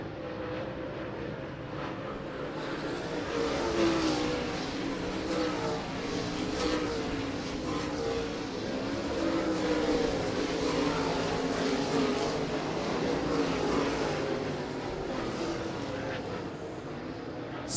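Late model race cars roar around the I-96 Speedway oval in a sustained, steady engine drone with passing surges, under a track announcer's commentary.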